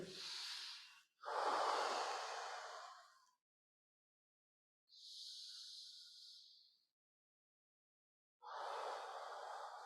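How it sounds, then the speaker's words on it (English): Deep, slow breaths in a movement therapy class, each long inhale and exhale drawn out over a couple of seconds with quiet pauses between, close and fairly clear with no talking. "We're going to get a good 5 to 10 deep breaths."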